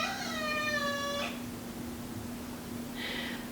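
A pet cat meows in a long drawn-out cry near the microphone indoors, followed after a pause by a second short meow, with a steady low hum beneath.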